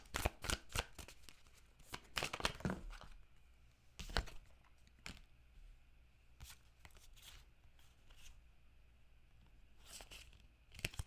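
Tarot cards being shuffled and drawn by hand, with crisp snapping riffles and flicks clustered near the start and scattered later, close and fairly loud against a quiet room.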